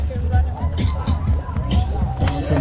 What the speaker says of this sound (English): Sounds from the crowd.